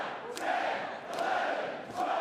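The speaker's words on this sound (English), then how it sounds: "You can hear the crowd counting along here" A live wrestling crowd at a Sydney show chants in unison, three loud rhythmic shouts spaced under a second apart as the audience counts along to punches, with a roomy arena echo between each call.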